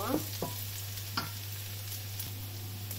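Garlic goes into a pan of browned onions and fries with a close sizzle, punctuated by a few quick scraping stirs over a low hum.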